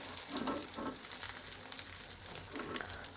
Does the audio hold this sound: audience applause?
no